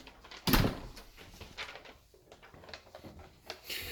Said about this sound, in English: as soon as you open the door